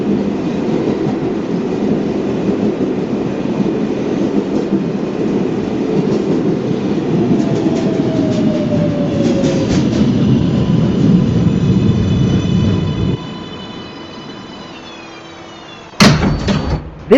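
A New York City subway 1 train rumbles along loud and close with steady clatter and a rising whine. It cuts off abruptly, leaving quieter tones that sweep down, then a sharp burst near the end.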